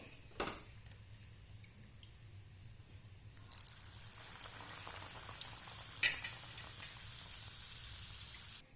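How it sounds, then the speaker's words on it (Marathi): Sambharwadi, a Vidarbha-style stuffed snack, frying in hot oil: a steady low sizzle with a few sharp clatters, growing denser and brighter midway as more pieces bubble, close by with no talking. "मीडियम गॅसवर मी छान दहा मिनिट हे शिजवून घेतलेली आहे एका किचन टॉवेलवर मी काढून घेते जेणेकरून एक्स्ट्रा ऑइल निघून जाईल अशा प्रकारे मी सर्व तळून घेणार आहे"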